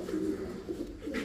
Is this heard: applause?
no